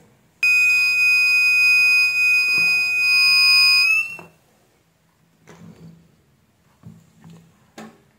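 The buzzer on a 200 watt mini inverter circuit board under fault troubleshooting gives one long, loud, piercing continuous beep of about three and a half seconds, then cuts off, leaving faint clicks and handling noises.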